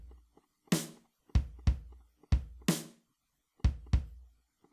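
Kick and snare drum pattern from the PolyNome metronome app: sharp, evenly spaced hits alternating a deep low thump with a brighter, noisier snap, about ten strikes in under five seconds, clean and close with no talk.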